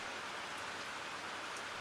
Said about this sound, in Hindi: एक तो बारिश ने पूरे प्लान को बर्बाद कर दिया है